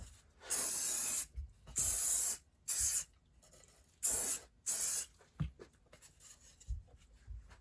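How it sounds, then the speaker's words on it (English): Five short bursts of hissing spray from an aerosol can of CA glue accelerator, close up, separated by brief pauses and followed by soft handling noises. "I'll take some accelerator and spray it where the CA glue is at"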